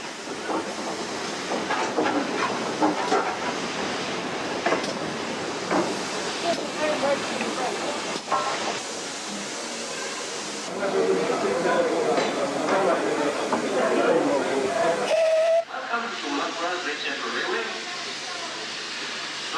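A steam locomotive on a preserved railway hisses steadily at close range, and a brief whistle sounds near the end, with a voice speaking over it.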